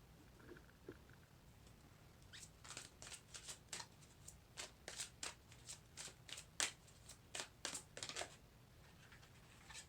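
Tarot cards being shuffled in rapid riffling bursts, a quick series of crisp papery flutters, close and fairly quiet, with no talking.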